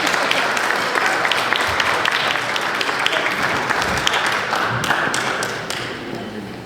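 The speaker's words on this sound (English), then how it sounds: "Let's give him another round of applause, everyone." An audience claps steadily at a track team brunch, a dense, loud round of applause that carries on for several seconds before thinning and fading toward the end.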